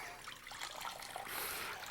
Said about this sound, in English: And if I pour the water through here,